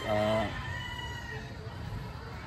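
A rooster crows once, loud and near, on a farm where fighting cocks are kept and shipped, followed by low clucking and faint murmuring voices in the background.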